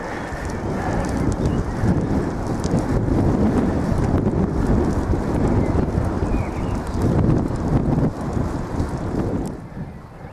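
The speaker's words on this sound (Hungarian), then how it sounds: "Elég kíméletlen szél fúj, sajnos." Strong wind on the Preiner Gscheid mountain pass buffets the microphone in a loud, continuous roar with gusting surges, close and harsh throughout.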